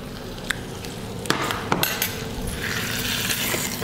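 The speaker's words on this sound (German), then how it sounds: "Das Rinderfilet jetzt nochmal von beiden Seiten scharf anbraten." Beef fillet searing in a hot pan, with a few metallic clinks of pan and utensils, then a steady, fairly loud sizzle spreading out in the second half.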